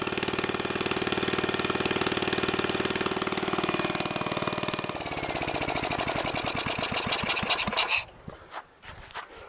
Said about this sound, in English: But after that, started right up.